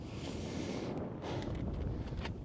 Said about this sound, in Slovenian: malo pa kar piha veter